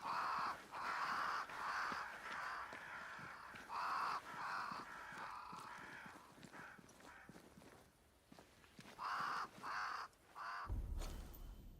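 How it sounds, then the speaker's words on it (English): Crows caw in Banishers: Ghosts of New Eden, flocking around a great tree; loud, harsh calls come in repeated bursts, with quieter footsteps beneath and a low thump at the end. "Crows."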